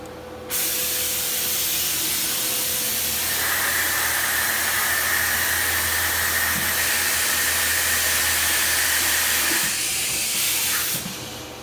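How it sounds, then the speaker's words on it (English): A Biesse Rover K CNC router runs with a loud, steady hiss and whine for about ten seconds as it moves and changes tool, a higher tone rising partway through before it stops abruptly. "As soon as I hit confirm, the machine will start moving, changing the tool if it needs to change, and it will go to the touch-off plate."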